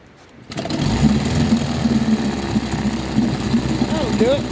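A 1953 Scott Atwater Gold Pennant 7-1/2 hp outboard motor catches after a flip start and runs with a loud, fast, steady putter, a low rumbling idle continuing for several seconds.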